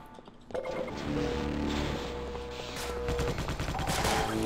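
Gunfire in the co-op shooter Sven Co-op, fired at the player as a dense burst of shots that starts abruptly and keeps rattling loudly, layered over game sound effects.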